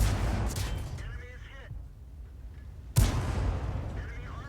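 Tank cannon shots in a tank video game, with two heavy booming blasts, one at the start and another near three seconds, each trailing off into rumbling decay.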